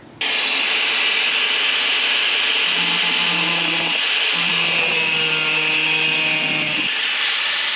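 A 2x3 steel tube rock slider being trimmed with a power tool, a loud continuous grinding and cutting roar that runs steadily for about seven seconds, shifting in pitch partway through as the cut bites, with no talking.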